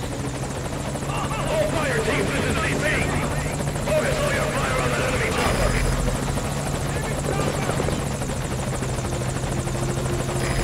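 A helicopter in the Metal Gear Solid V video game drones steadily with a thick rotor buzz, continuous and fairly loud across the whole stretch, with voices talking over it.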